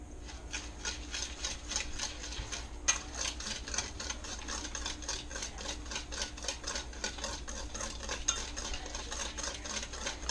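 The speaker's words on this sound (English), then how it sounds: "Whisk." A whisk beats dense chocolate stout cake batter in a bowl with a fast, steady run of metallic clicks and scrapes, close and continuous throughout.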